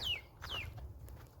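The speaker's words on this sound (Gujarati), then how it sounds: "કાબર કલરવ કરે છે" A few sharp, descending whistled calls from birds, mynas chirping, heard faintly over a low rumbling background.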